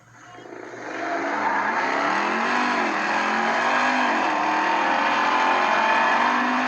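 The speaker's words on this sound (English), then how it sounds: "It's an actual Hellcat Dodge Durango." A Dodge Durango Hellcat engine builds from a quick start into a loud, sustained high revving roar with rising and falling tones, close and dominant, no talk.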